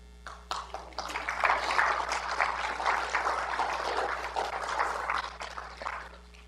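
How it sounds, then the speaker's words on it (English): Church congregation applauding after a sermon, a dense sustained round of clapping that swells and fades over several seconds with a steady electrical hum beneath. "Are you clapping because it is done?"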